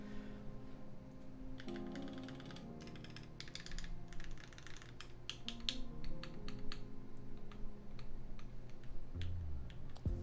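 Quick, crisp keystrokes come in bursts from a modded Keychron Q1 mechanical keyboard with swapped switches and keycaps. They sound close and clear, with short pauses between runs of typing and no speech.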